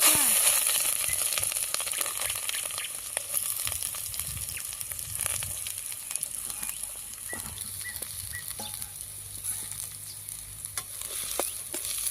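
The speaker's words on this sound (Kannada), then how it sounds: "ಜೀರಿಗೆ ಹೆಚ್ಚಿಟ್ಟಿರುವ ಉಳ್ಳಾಗಡ್ಡಿ ಮೆಣಸಿನ್ಕಾಯಿ ಕರಿಬೇವು ಅಲ್ಲ ಬೆಳ್ಳುಳ್ಳಿ ಪೇಸ್ಟ್ ಎಲ್ಲಾನು ಎಣ್ಣೆಗೆ ಹಾಕ್ತಾ ನೋಡಂಟಿ" Cumin, chopped onion, green chilli, curry leaves and garlic paste fry in hot oil for a Raichur-style mirchi snack, a steady close sizzle with scattered pops and crackles, occasional stirring clatter throughout.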